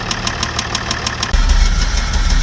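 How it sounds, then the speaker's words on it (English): Knocking engine of a vandalized Range Rover L405 SUV, a steady running engine with a rhythmic tapping pulse that turns louder and heavier partway through, as if revved, with no talk. "it had an engine knocking problem"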